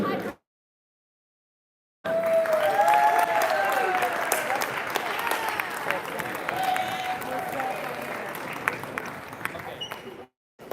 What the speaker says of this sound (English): Let's give one last round of applause to all of the youth teams.